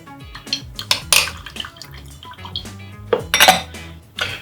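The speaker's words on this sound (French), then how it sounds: "Je mélange le lait. J'ajoute que je mélange avec la crème." Milk and cream being mixed in a pot, with irregular close clanks and scrapes of a utensil against metal and faint liquid sloshing, heard alone.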